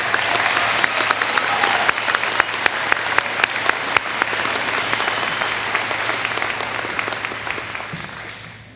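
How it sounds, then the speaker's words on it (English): Loud, sustained applause from a crowd at a school commencement ceremony, dense clapping with a few sharp individual claps standing out, fading slightly at the end. "Let's give them a round of applause."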